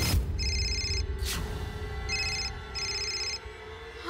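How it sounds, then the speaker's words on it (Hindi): A phone rings with an incoming call in a TV drama scene, its electronic ring tone sounding in three repeated bursts over a steady background hum, with no voices. "संपदा के फोन पे मल्हार का कॉल।"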